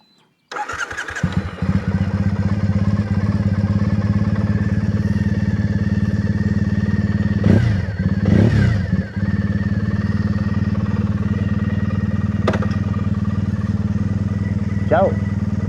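A 2011 Triumph Bonneville T100 motorcycle engine cranks and catches, then settles into a loud, steady idle close by, with a couple of brief throttle blips midway and a faint background sound later.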